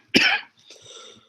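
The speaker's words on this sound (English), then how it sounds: "I apologize for all this coughing." A single sharp cough close by, followed by a softer, raspy breath or throat clearing.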